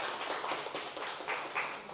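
An indoor audience at a traditional liquor and fermentation festival applauds a traditional liquor sommelier, with steady, moderately loud clapping from many hands that continues throughout.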